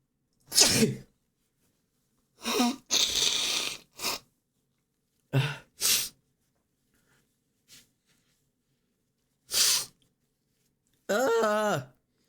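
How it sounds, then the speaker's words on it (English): A person sneezes again and again in short, separate bursts, loud and close, with quiet gaps between them, and a brief spoken or groaning sound near the end. "sneezing is starting to hurt, dude"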